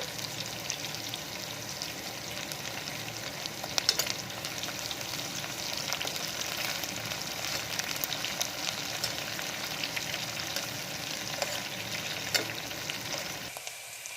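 Curry leaves sizzle and crackle in hot oil for a brinjal curry, a dense, steady frying hiss with occasional sharp pops, close and continuous, with no talking.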